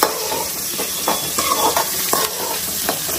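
Small shallots sauté in a pan for a country chicken curry, a loud, dense sizzle with repeated scraping strokes of a spatula stirring through them.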